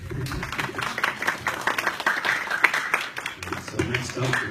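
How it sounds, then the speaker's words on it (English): An audience at a panel discussion in Dearborn, Michigan, breaks into applause, a dense steady patter of many hands clapping for several seconds, close and moderately loud, with a brief dip near the end. "Okay, you can clap."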